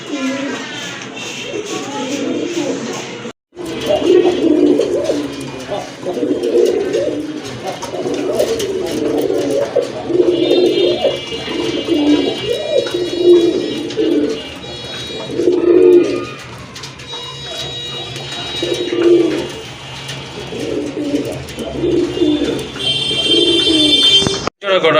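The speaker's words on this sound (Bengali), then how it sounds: "সুন্দর কবুতর।" Pigeons coo repeatedly and close by in a loft of breeding fancy pigeons, soft throaty rolling calls in a steady rhythm, with shuffling and brief background voices.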